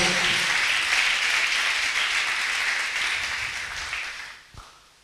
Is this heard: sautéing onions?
no